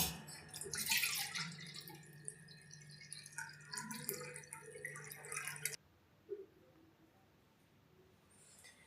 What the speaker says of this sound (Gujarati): હવે આપણે પાણી કાઢી લેશું એનું.